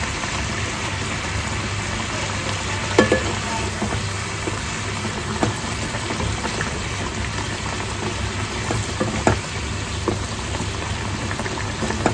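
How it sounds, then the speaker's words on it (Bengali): Fish gravy boils in a pan with a steady, dense bubbling hiss, broken by a few sharp clinks that could be stirring. "মাছগুলো দিয়েও গ্রেভিটা আমি ভালো করে একটু ফুটিয়ে নেব।"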